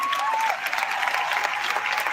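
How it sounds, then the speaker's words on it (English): Dense, steady audience applause with a crowd's continuous clapping filling the whole short stretch at an even, loud level. "Give yourself a round of applause."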